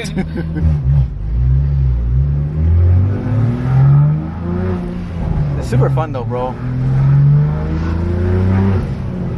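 A Subaru BRZ with an aftermarket exhaust accelerates from inside the cabin, its loud engine note rising and dropping through gears while occupants talk over it.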